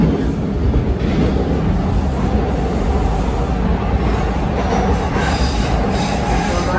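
A Toronto TTC subway train rumbles loudly across the Bloor Viaduct with a constant roar, rhythmic wheel clatter, and high metallic squealing from the rails.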